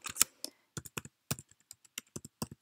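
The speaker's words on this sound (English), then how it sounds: "Not doing very well with my typing here today." Keys on a computer keyboard clack in short bursts and single taps, crisp and close, with brief pauses between strokes.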